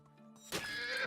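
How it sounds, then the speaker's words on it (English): A shot horse in the video game Medieval Dynasty lets out a sudden loud, shrill whinny that bursts in after a low hum and holds to the end. "Oh, you shot my horse."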